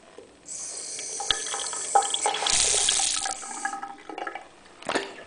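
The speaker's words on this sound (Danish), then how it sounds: "Og her er en vandhane." Water runs from a tap in an apartment in Denmark, a hissing stream starting and stopping with clinks and knocks around it, fairly close, no talking.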